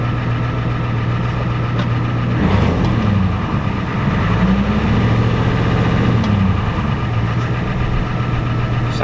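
A Ford F-250 pickup with the IDI 7.3 diesel engine idles steadily up close, a constant loud, rough rumble with a low knocking drone that barely changes throughout.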